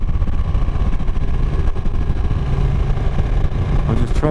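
Ducati 959 Panigale sportbike ridden on a wet, slippery road after rain, its engine a steady loud drone mixed with rushing wind and road noise throughout, without a break.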